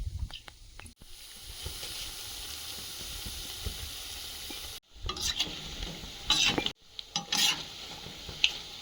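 Fish frying in oil makes a quiet, close crackling sizzle, broken by a few brief silent gaps and louder spurts of spitting near the end, with no voices.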